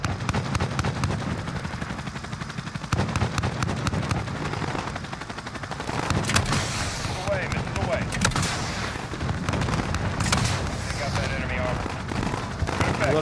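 Gunship gunfire in Call of Duty Modern Warfare 2, aimed at troops on a tarmac: dense, rapid cannon fire and explosions run continuously for the whole stretch, with radio chatter mixed in.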